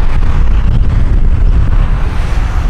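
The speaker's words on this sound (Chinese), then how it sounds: "而且风很大" Strong wind gusting across a stone breakwater on a crowded beach, a loud buffeting rumble on the microphone with surf-like roar throughout.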